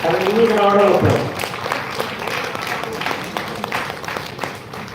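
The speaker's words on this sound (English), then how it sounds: "Have a huge round of applause." Crowd applause at a management school conference, rising after a brief amplified voice at the start and continuing as steady, moderately loud clapping from the audience to the end.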